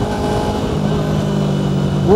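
A Haojue XCR300 motorcycle engine revs hard under load, its steady loud drone climbing in pitch near the end as it is pushed toward high revs.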